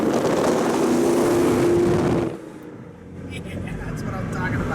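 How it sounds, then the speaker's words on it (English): A 1937 Dodge Coupe on the road gives a loud, steady engine roar that suddenly drops away to a quieter, rougher running drone, with the engine building again toward the end. "This guy's 77 years old, but he still drives this car like he's a teenager with way too much power at his fingertips."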